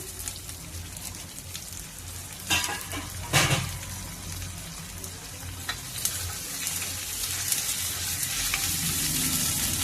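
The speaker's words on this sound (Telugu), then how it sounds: "ఇదిగో చూడండి, ఆయిల్ బయటకు వచ్చేలాగా వేగింది కదా. ఇప్పుడు టమాటా ముక్కలు వేసుకుందామండి." Tomato pieces and fresh mint frying in oil for a raw plantain and tomato curry, producing a continuous close sizzle broken by a few louder stirring scrapes and bursts, with no speech.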